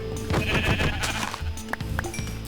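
Sheep bleat in Minecraft as they are killed, a quavering baa followed by short hit and thump noises, fairly close.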